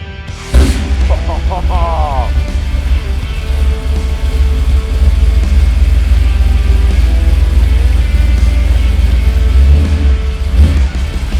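A 1964 Chevelle Malibu SS V8 idles with a deep, loud, steady low rumble that runs continuously from start to finish, with a brief burst of higher noise near the start.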